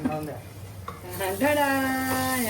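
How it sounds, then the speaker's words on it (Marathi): Masala sautés in a pan for a mutton dal dish, giving a soft sizzle and stirring scrapes. A sustained, tonal voice hums or speaks over it in the second half. "आता मसाला सुगंध येईपर्यंत मंडली पण छान अशी परतून घ्यायच्यात"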